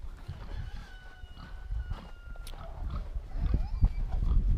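Chickens cluck and crow amid a noisy barnyard, with low rumbling and shuffling throughout and a few sharper calls standing out near the end.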